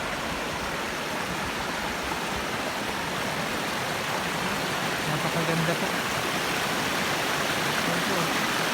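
Water from a mini falls on the Osaka Castle grounds pours steadily into a pond, a continuous broadband rush with a brief spoken remark passing over it.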